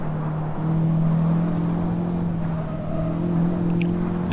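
Engine note of a Honda Civic Type R driving on the Nürburgring in Assetto Corsa, a steady mid-pitched drone that shifts and climbs in tone, with a brief chirp near the end.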